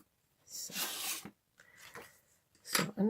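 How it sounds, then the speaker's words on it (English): Scissors cut through folded cardstock for a pop-up card in a few rasping, snipping bursts separated by short pauses, close and fairly quiet. "now you can take your scissors and cut along there"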